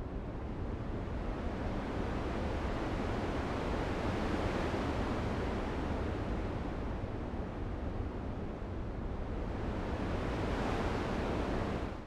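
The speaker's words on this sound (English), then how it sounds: "that's the very basis of my wind sound made with noise" Synthesized wind built from noise shaped by FMOD LFOs, a steady broadband rush that swells and dips slowly over twelve seconds, with no talking.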